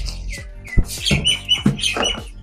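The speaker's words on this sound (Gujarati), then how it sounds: "પક્ષીઓનો અવાજ કાબર બેઠી છે" Myna birds calling close by, a loud run of harsh chattering notes and sharp whistles in quick succession.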